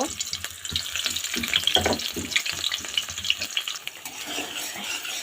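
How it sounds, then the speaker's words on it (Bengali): Chopped onions frying in oil for biryani, a close sizzling crackle broken by repeated scraping stirs of a spoon through the pan. "পেঁয়াজটা আমি গাঢ় বাদামি রঙের করে ভেজে নিব"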